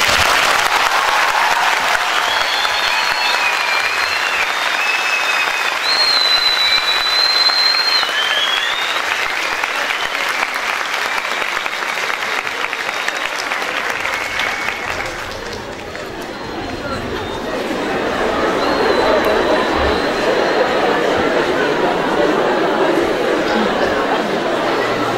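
A crowd at a university guest event applauds loudly with sharp whistles rising over the clapping, then the applause briefly dips before swelling again into a broad, sustained roar.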